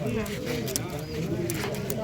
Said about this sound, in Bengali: সবুজ নর কবুতর